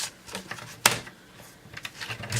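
A paper trimmer slices through paper while a booklet is being trimmed for a craft layout, giving one sharp, close cutting snap against quiet handling rustles and light clicks.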